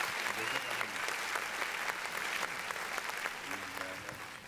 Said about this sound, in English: Thank you so much, William, for that applause